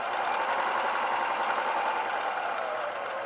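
A sewing machine runs continuously as its presser foot feeds cushion cover fabric, a steady close-up whirring hum with no pauses, holding an even loudness throughout.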